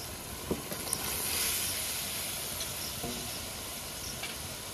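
Eggplant goes into a simmering egg curry, setting off a soft, steady hiss and sizzle with a few faint clinks, quiet and close.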